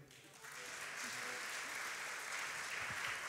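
A crowd at an agricultural fair breaks into applause for a performer, swelling after a brief pause and staying as a sustained, full clapping wash with a voice occasionally heard beneath it.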